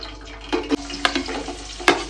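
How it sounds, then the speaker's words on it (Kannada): Onions frying in a pan for egg biryani, with soft sizzling under a low hum and a few sharp clinks and scrapes from stirring. "ಬ್ರೌನ್ ಕಲರ್ ಬರೋ ತನಕ ಫ್ರೈ ಮಾಡ್ಕೊಳ್ಳೋದ."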